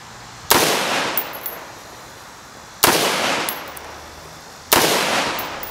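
Three loud, sharp gunshots ring out at a shooting range, spaced about two seconds apart, each with a crisp crack followed by a decaying echo, with no talking in between.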